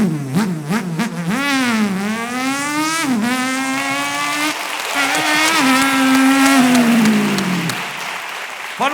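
A single performer vocally imitates a motorcycle on a talent-show stage, producing a loud, continuous revving whine that rises and falls in pitch through several throttle swells over nine seconds, with no other voices.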